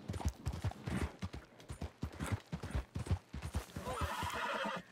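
Horse hooves clip-clopping in the Red Dead Redemption 2 video game, a quick, uneven run of hoofbeats with a whinny toward the end, fairly close and alone without speech.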